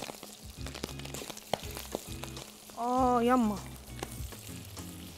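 Pieces of fasha (lung) frying in a small pan give a quiet, continuous sizzle, with a short spoken word and a brief louder swell partway through.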